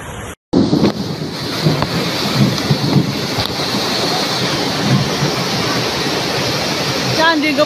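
Floodwater rushing along a flooded street in Indonesia after heavy rain, a loud continuous roaring wash with wind buffeting the microphone throughout.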